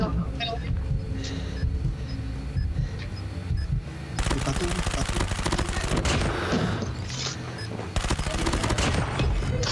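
Rapid bursts of shotgun and automatic gunfire ring out in the Call of Duty Mobile video game, a dense, loud stream of shots that grows busier partway through while players chat over it.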